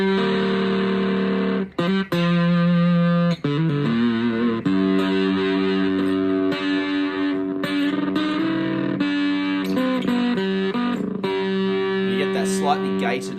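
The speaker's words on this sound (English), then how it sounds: "actually adjust the amount of gain, or distortion if you will, by using now the guitar volume" Electric guitar played through a Macanudo Lightning Boy distortion pedal built into a cigar box guitar, loud fuzzy sustained chords and notes with a few short breaks, its gain rising and falling with the guitar's volume knob.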